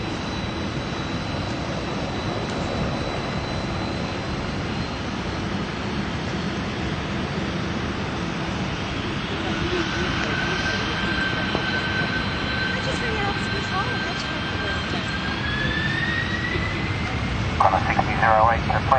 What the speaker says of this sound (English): Runway 772, 160, clear for takeoff.